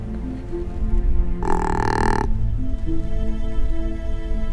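A short, harsh breathy wheeze of about a second, a whitetail deer's snort wheeze in Kansas, bursts out over steady outdoor background noise, then fades back to quiet ambience.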